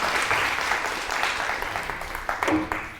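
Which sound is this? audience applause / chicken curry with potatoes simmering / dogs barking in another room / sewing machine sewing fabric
audience applause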